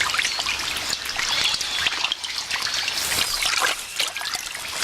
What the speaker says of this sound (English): The floods have driven the armadillo out of her burrow and into the swollen river to swim for her life